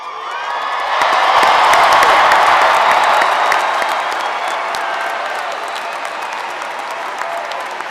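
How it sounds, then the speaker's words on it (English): Audience at a College of Engineering commencement ceremony bursting into sustained applause with cheers and whoops, a dense wash of clapping that swells quickly and then slowly tapers. "please applaud your graduates"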